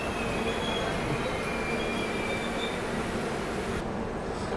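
The Howrah Pune Duronto express brakes hard after its emergency chain is pulled, wheels squealing with high-pitched shrieks over a loud, constant rumble of the moving rail cars.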